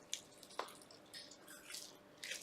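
Moist, floury paper clay dough is squeezed by hand in a few soft, wet squishes and squelches, close and quiet with no talk.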